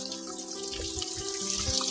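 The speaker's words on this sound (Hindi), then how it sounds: "झरना टाइप है भाई" Flowing water from a small mountain waterfall on a trail near Patnitop, a steady close rushing splash with no talk.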